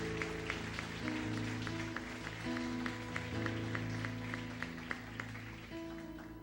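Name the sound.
congregation applauding in church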